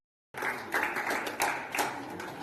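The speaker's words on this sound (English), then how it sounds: "Crowd's starting to get involved now." Crowd applause at an indoor bowls match, a short burst of clapping from many hands with a few louder accented claps standing out over the steady patter.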